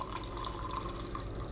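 Hot bouillon broth poured into a soup can, a steady close liquid splash and trickle running continuously without pause.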